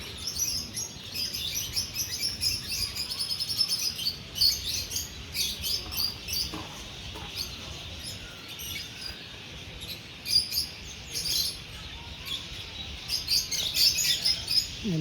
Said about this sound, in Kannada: ಎಲ್ಲ ಬರ್ಡ್ಸ್ ಏರಿಯಾ